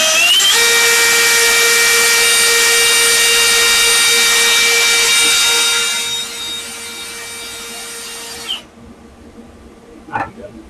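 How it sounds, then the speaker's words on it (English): A wire wheel spinning against aluminum to scrub it clean before welding: a loud, close, steady high whirring grind that holds for several seconds, then winds down, followed by a couple of faint clicks and knocks. "We'll probably hit the wire wheel. Get crud off of it."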